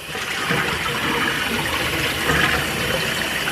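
Rice being rinsed under running water in a kitchen to wash off the starch, a steady continuous stream of splashing water, close and fairly loud throughout with no talking.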